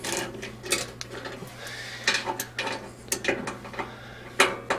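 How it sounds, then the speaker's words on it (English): Metal tool clicks and scrapes while loosening tight 5/16 inch bolts holding the igniter in a Harman pellet stove fire pot, irregular close clinks and ratcheting over a low steady hum. "Now the igniter is secured in the fire pot by these 2 5/16 inch bolts. We're going to go ahead and remove those."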